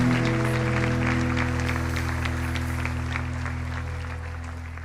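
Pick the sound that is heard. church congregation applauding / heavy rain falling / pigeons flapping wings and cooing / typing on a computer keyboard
church congregation applauding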